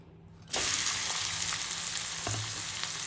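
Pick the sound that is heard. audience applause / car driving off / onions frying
onions frying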